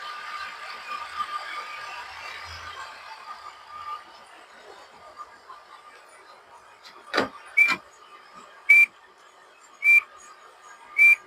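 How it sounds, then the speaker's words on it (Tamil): Power windows on a four-door diesel car whir in four short separate bursts, one after another, following a stretch of soft background hum. "நாலு டோர் பவர் விண்டோ வந்துருங்க"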